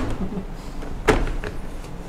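A home door is pushed shut in one short, dull thud about halfway through, set against quiet room background.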